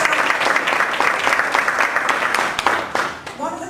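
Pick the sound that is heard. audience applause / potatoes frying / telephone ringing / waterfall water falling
audience applause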